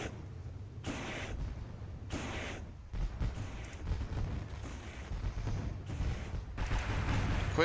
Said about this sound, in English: And they set the fireworks off for you guys.